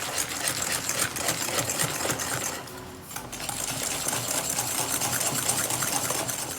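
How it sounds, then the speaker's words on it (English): Egg yolks and sugar being whisked in a bowl for a mango tart filling, a loud, continuous rapid rattle of metal against the bowl that runs almost the whole time with only a brief dip midway. "I'm gonna whisk until you get a nice bright shade of yellow and it's all combined"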